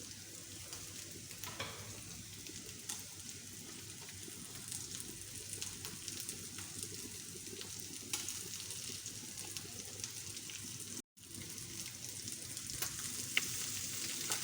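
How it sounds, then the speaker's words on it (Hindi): Carrots, green peppers (capsicum) and whole red chillies sautéing in a pan, a steady broadband sizzle and crackle running throughout with occasional faint stirring clicks and a brief drop near the end. "मैं कैरेट को डालती हूँ, हल्का सा इसको भी सौटे करेंगे"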